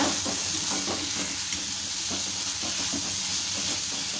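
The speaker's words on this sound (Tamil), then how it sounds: "இப்போ இதை எல்லாத்தையும் சேர்த்துட்டு நல்லா கலந்து விட்டுக்கோங்க" Carrot and potato are stirred in a pan with rice flakes, a continuous frying sizzle and hiss overlaid by repeated scraping strokes of the spoon, close and steady throughout.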